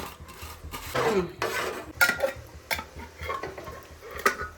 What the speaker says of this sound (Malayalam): ഇളക്കണം ഈ കരുവ് അടിയിൽ പിടിക്കും ചിലപ്പോ അപ്പൊ നമ്മൾ ഇളക്കിക്കൊണ്ടേ ഇരിക്കണം